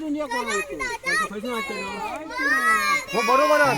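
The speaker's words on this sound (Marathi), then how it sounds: "पोरांचा जल्लोष" Excited children cheer and shout at a village Holi bonfire, their high, lively voices overlapping in close, continuous bursts of celebration.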